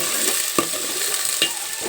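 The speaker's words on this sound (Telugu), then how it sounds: "ఉల్లిపాయలు పచ్చిమిరపకాయలు బాగా వేగనివ్వాలన్నమాట." Onions and green chillies fry in a pan for a chicken curry, making an even, close sizzle broken by a few sharp stirring clicks and scrapes.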